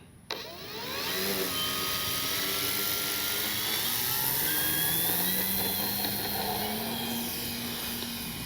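Electric motor of a Flex Aviator 40E RC airplane running at throttle, a steady loud whine that starts abruptly and holds with slowly shifting pitch, close by and continuous with no talk.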